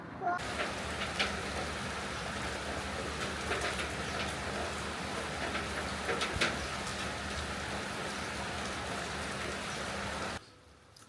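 Pouring rain outdoors in Lang Son, Vietnam, a steady dense hiss of heavy rainfall with scattered nearby drips, continuous and even until it cuts off near the end.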